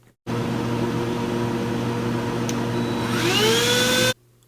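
A vacuum cleaner switches on abruptly and runs with a loud, steady whir while picking up spilled sugar from a floor. A rising whine enters toward the end before it cuts off sharply.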